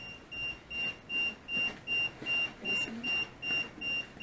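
An alarm in a basement beeps in a steady, evenly spaced pattern of about nine short, fairly faint tones, with no talking.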